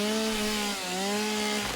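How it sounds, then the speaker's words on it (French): A chainsaw running steadily in a video game, a loud buzzing drone with a slight dip and shift in pitch midway, heard alone without talk. "Ah, le bruit de la tronçonneuse,"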